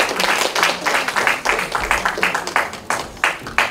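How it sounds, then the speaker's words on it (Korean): Audience applause at a literary awards ceremony honouring new poets, a steady burst of close hand clapping with uneven, overlapping claps throughout. "큰 박수로 축하해 주시기 바랍니다"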